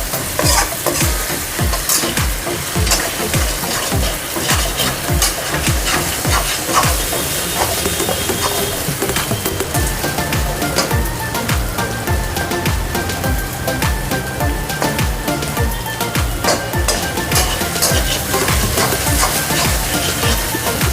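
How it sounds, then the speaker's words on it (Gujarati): Potato pieces sautéing in oil in a pan for aloo poha, making a loud, constant close sizzle and hiss, with frequent rhythmic scrapes and clinks of a spoon stirring throughout, and no talking. "હજી આપણા આલુ સોતરાય છે, કારણ કે આલુને ચડતા વાર લાગે ને થોડી, અને તેલમાં જ સોતરવાના છે"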